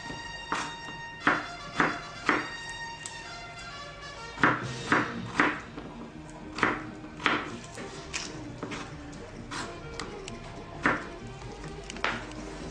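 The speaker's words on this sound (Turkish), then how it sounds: "Soğandan sonra patatesleri doğrayarak devam ediyoruz. Minik küpler şeklinde doğrayacağız." A knife chops potatoes into small cubes on a board, a series of crisp taps in uneven bursts with short pauses, close and clear, no voices.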